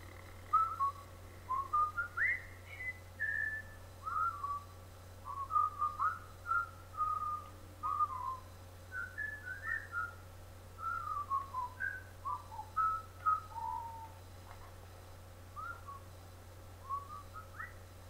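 A person whistles a long, wandering tune of short melodic phrases, meant to stop someone snoring, with a steady low hum running underneath and no talking.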